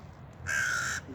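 A single loud caw rings out from a bird being fed outdoors, a harsh, drawn-out call lasting about half a second over a low background rumble.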